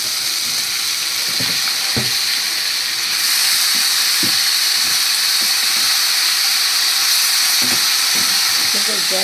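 Banana stem pieces hit a hot pan with Kashmiri chili powder and spices, a loud steady sizzle and hiss that swells after a few seconds, with occasional stirring knocks and a voice talking briefly.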